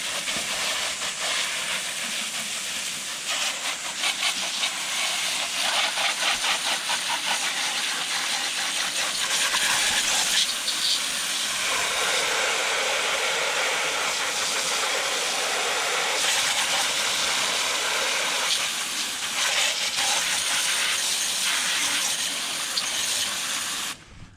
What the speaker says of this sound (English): We'll go ahead and rinse this one off